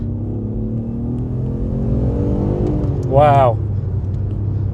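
A 2.5-litre Busso V6 in an Alfa Romeo 156 idles with a deep, steady hum, then gives one sharp rising rev near the end before settling back, with a brief exclaimed word from a person.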